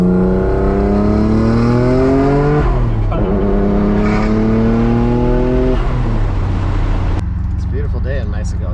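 A 500-horsepower Mitsubishi 3000GT VR4 pulls hard under acceleration, its engine climbing steadily through gears with rising pitch and shift breaks, loud and close throughout, with a voice briefly audible near the end.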